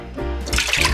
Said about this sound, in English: going to pour 12 cups of milk into this hot pot